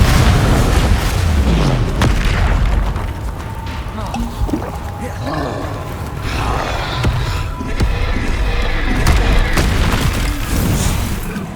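Expelliarmus and Confringo spells in Hogwarts Legacy fire in a loud, continuous barrage of booming blasts and whooshing magic, dense and close, with combat clatter and voices mixed underneath.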